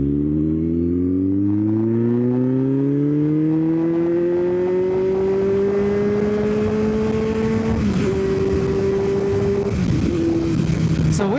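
A 2020 Kawasaki Z900 50th anniversary motorcycle engine hums loudly and steadily while riding, its pitch climbing through the gears with brief shift dips, heard up close throughout.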